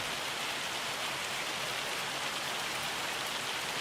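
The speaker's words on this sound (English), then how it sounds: "since it's raining" Steady rain pours in Farming Simulator 25 on a North Dakota farm map, a dense, even hiss of drops on surfaces running unbroken and fairly loud throughout, with no voices.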